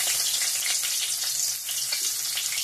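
Onion and garlic frying in hot oil for a urad dal tempering, a steady bright sizzle with faint stirring, close and continuous with no talk.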